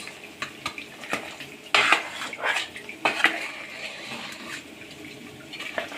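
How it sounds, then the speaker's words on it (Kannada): Metal utensil scrapes and clinks against a pan as thick chicken korma curry paste is stirred, irregular strokes with soft clatter and brief pauses, close by. "ಪೇಸ್ಟ್ ಹಾಕಿದ್ಮೇಲೆ ನೀಟಾಗಿ ಮಿಕ್ಸ್ ಮಾಡ್ಕೊಳ್ಳಿ."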